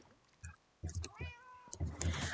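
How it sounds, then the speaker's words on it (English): A pet cat meows a few short, bright calls near a streamer's microphone, mixed with soft clicks and light room noise. "Oh, I can hear my kitty cat."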